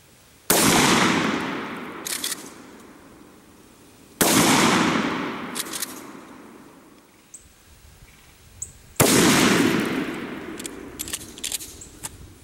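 Three loud, close blasts from an old 20-inch Remington 870 12-gauge pump shotgun firing #4 buckshot with no choke, each sharp crack trailing into a long echoing decay, spaced several seconds apart.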